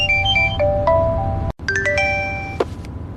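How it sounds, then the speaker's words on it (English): Mobile phone ringtone playing a bright, melodic chime pattern, loud and close, briefly cut off midway before the tune resumes, with no talk. "Then his phone rang."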